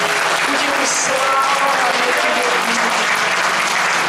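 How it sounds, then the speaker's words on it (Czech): A church congregation applauds the Lord during a sermon in Brno, with loud, sustained, dense clapping from many hands and voices mixed in. "zatleskejme Pánu"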